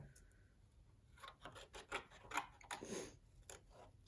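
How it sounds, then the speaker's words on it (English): Scissors snip and rustle through paper or card along a drawn line, a series of faint, irregular close cuts. "When we cut, I'm gonna cut on the dark blue line and then cut out those two lenses there."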